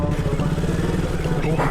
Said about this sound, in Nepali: हिलो छ होला बाइक त यतै राखिदिउँ ल